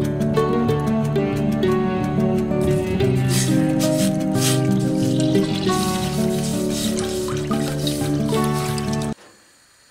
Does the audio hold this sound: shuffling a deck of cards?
no